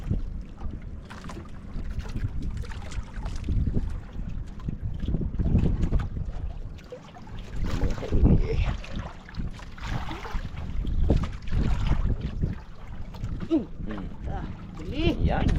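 Wind roars steadily across a fishing boat, with water sloshing and engine rumble underneath while people talk intermittently nearby.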